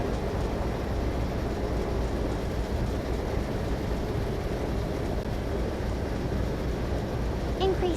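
Train rumbling along the track in a train simulator game as brakes are applied on the approach to a tunnel, a steady broadband roar at an even level throughout.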